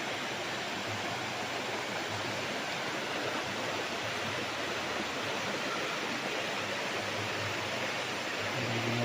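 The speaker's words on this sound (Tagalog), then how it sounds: "Ang agos ng tubig pag ganun mga kapraps" River water flowing beside a farm lot in Liliw, Laguna, a steady broad rushing wash that stays constant and fairly loud throughout, with no talking.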